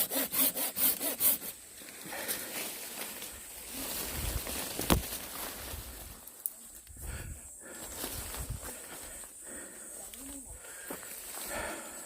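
A hand saw cuts through a peach tree branch during pruning, with steady back-and-forth strokes that start quick and rhythmic, then continue as softer, rougher rasping under outdoor background noise.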